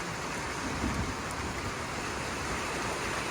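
Steady rain pours down outdoors on a sheep farm, a dense, continuous hiss close by with no breaks, loud and even throughout.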